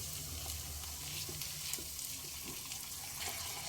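Tomato paste hitting hot oil with frying ginger and garlic in a pan gives a steady, dense sizzle with a few soft stirring scrapes, close and continuous, with no talking.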